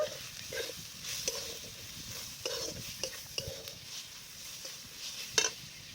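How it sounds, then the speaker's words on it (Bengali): Turmeric and coriander powder spices stirred in a frying pan, with repeated scraping strokes and light clinks over a soft sizzle, one louder knock near the end. "এবার এটাকে নাড়চাড় করে নেব"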